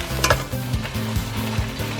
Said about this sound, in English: I'm gonna give it a good stir. I'm gonna add in my ginger and give it another really good mix